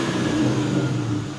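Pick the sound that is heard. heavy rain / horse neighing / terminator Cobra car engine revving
terminator Cobra car engine revving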